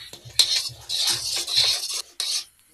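Semolina dough being stirred in a pan, with short scraping and clinking strokes of a utensil against the metal in an uneven rhythm, close and fairly clear, with no speech.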